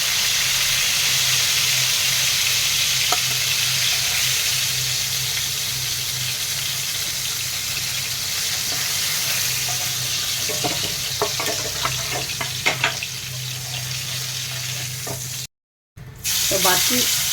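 Bhola fish frying in oil: a dense, steady sizzle close by, with scattered light clicks and spatters later on and a brief gap near the end, no voices.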